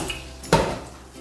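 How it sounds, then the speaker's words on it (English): A metal cooking pan is picked up and set down in a home kitchen, giving a single brief clank against a quiet background. "I'm just going to get a pan and fill that up with some water."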